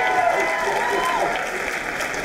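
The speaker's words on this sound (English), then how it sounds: "Let's give a round of applause for all of our performances yesterday." Dense, steady clapping from a crowd fills the room at an even level, with no voices above it.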